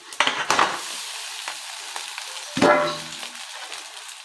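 Cooked rice being stirred in a pan for egg rice, with soft scraping and shuffling of a spoon through the grains over a faint sizzle, a few sharper clinks against the pan, close and without talk.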